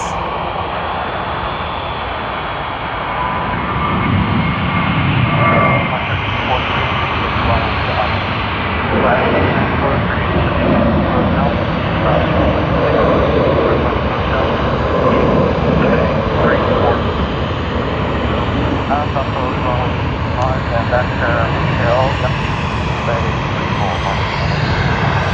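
A Tianjin Airlines Airbus A330-200 airliner arriving at Sydney Airport after a long flight from Chongqing, its engine rumble loud and sustained for the whole stretch, with a voice talking over the noise.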